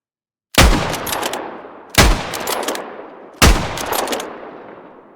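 Three single Lee Enfield rifle shots in the game Squad, evenly spaced about a second and a half apart, each a sharp loud crack followed by a long rolling echo tail.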